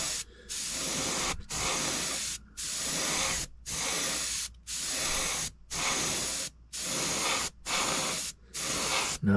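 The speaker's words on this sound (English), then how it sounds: "I got my sealer loaded up in the airbrush." An airbrush sprays sealer onto model car seats in about nine steady hissing bursts, each roughly a second long and split by short silent pauses, close and fairly loud.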